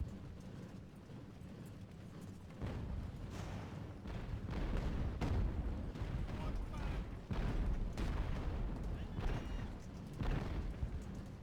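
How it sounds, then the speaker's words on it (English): Mortar fire and cannon booms against grenadiers during a siege in the naval strategy game Ultimate Admiral: Age of Sail, with repeated dull blasts and a steady rumble of battle at moderate, distant-sounding level. "let's see what the mortar can do against these grenadiers"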